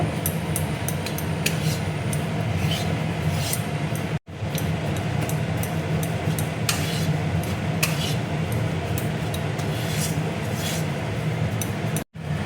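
Gram flour (besan) stirred and fried in melted ghee in a pan over a low flame for apple halwa, giving a steady close scraping with frequent small utensil clinks throughout, broken by two brief cuts in the sound.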